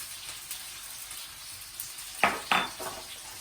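Thinly sliced onions frying with cumin and mustard seeds in a pan, a faint steady sizzle broken by two sharp metallic scrapes of stirring near the end, no voices.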